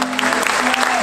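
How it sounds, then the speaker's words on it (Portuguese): Audience applause at an improvised singing night, dense close clapping that fills the short moment with steady rapid claps and no clear pauses. "uma salva de palmas"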